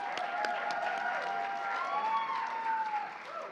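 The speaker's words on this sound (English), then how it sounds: "Let's give them a round of applause." A pageant audience applauds steadily and densely, with some cheering mixed in, sustained for the whole stretch before easing slightly at the end.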